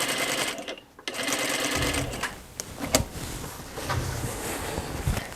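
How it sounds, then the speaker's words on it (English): A sewing machine stitches a corset in bursts, a rapid mechanical whir that starts, pauses, and restarts, with a few clicks and handling knocks in between. "I will go to the sewing machine"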